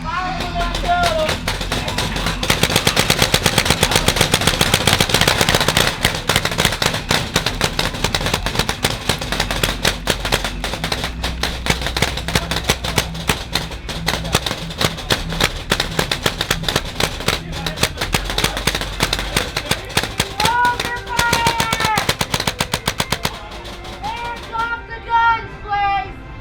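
Paintball guns fire in dense rapid bursts during a low-light zombie paintball assault game, a near-continuous rattle of shots for over twenty seconds, easing near the end as voices shout.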